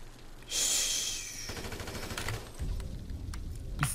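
Gunfire in the video game GTA 5: a loud, rapid burst of shots followed by scattered crackling reports and echoes, with no talking.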